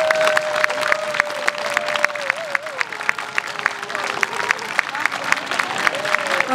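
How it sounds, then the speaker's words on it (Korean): Audience applause at a Korail Symphony Orchestra concert, a steady hall-filling wash of clapping sustained throughout, with a faint tonal line running beneath it. "큰 박수 부탁드릴게요"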